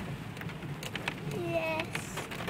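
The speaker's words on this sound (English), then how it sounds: "Well, the rain's really coming down now, isn't it, Amy?" Heavy rain pours onto a forest track, a steady broadband hiss that fills the whole scene with scattered louder drops and a brief faint whistle-like tone partway through.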